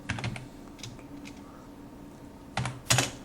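Typing on a computer keyboard while writing HTML code, brief clusters of clicky keystrokes at the start and end with a quiet gap between, close by, no speech.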